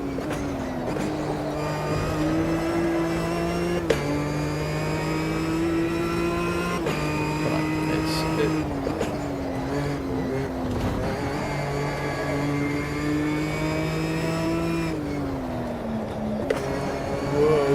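Ginetta historic race car engine in the Automobilista 2 racing game, revving loudly and continuously with rising pitch through each gear, brief dips at shifts, and no voices.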